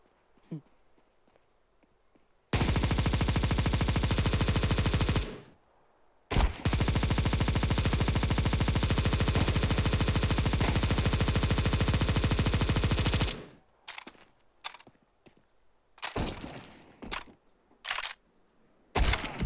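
Automatic gunfire in the video game Counter-Strike 2: a long, loud sustained burst of rapid shots lasting about ten seconds with a brief break, followed by scattered single shots and clicks.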